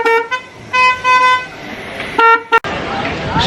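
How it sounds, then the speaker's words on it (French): Car horns honking in Mumbai traffic: several bright, sustained toots of varying length, loud and close, with street noise and a voice speaking between them. "les klaxons, ils sont là."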